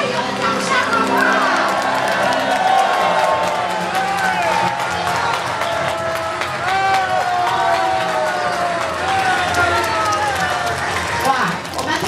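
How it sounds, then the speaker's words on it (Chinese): A large crowd at a year-end thanksgiving evening gala in Changhua cheers and applauds to welcome the Legislative Yuan speaker, Wang Jin-pyng, loud and continuous, with shouting voices and bursts of clapping throughout. "我们现在欢迎立法院长王金平王院长，我们多给他一点加油的掌声好不好？"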